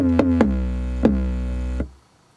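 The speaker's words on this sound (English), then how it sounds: "So what we've done with the 808 here is we've distorted it, compressed it, and limited it," A distorted, compressed and limited 808 kick played as a bass line, a few heavy booming low notes with sharp attacks and sustained tails, loud and alone before cutting off.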